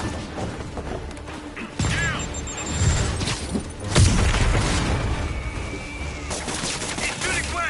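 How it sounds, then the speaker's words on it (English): An enemy fires a gun in the Spider-Man PS4 video game: repeated loud gunshot bursts and booms ring out amid chaotic fight clatter. Voices speak at times. "He's shooting west!"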